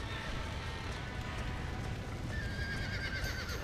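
Neighing and clip-clopping hooves of a horse in Red Dead Redemption, heard steadily over a thick rumbling background, with a brighter whinny rising near the end and no talk.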